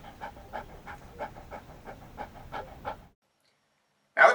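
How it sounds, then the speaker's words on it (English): A dog pants steadily and close by, about ten quick, even breaths in a row. The panting stops into silence, and a short sharp sound follows. "Did I just hear a dog?"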